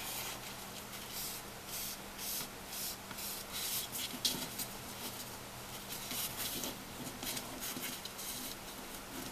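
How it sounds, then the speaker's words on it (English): Burnishing the top and bottom edges of a handmade paper folio: a steady, soft rubbing and scraping that runs continuously for several seconds at close range. "Burnish this one down. Give us a nice finished edge on the top and the bottom."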